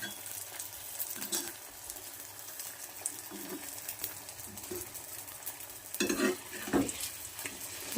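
Pitha of rice flour, maida and sugar deep-frying in hot oil, a steady close sizzle with crackling bursts, louder bubbling spells near the end, faint bird calls in the background.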